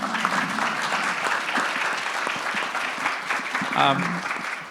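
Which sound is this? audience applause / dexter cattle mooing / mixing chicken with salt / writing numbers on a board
audience applause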